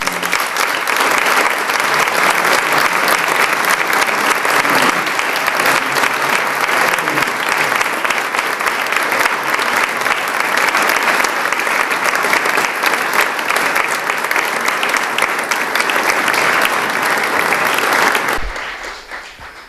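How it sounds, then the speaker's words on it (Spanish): A seated audience at a talk and discussion on the history of the Virgin of Criptana gives loud, sustained applause, dense crowd clapping that runs for nearly twenty seconds before cutting off abruptly. "un fuerte aplauso para Francisco y para mí"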